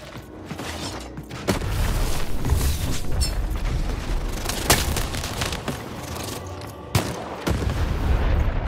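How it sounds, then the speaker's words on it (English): Cannon fire in the video game Lost In Random: a few sharp booming shots over a dense, rumbling mechanical background of game sound effects, moderately loud with no talk. "Shoot the button to fire the cannon."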